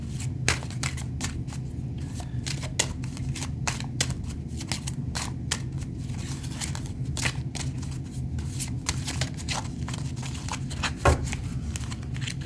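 Steady riffling and slapping of tarot cards being shuffled, a continuous crisp patter over a low hum, close by and moderately quiet.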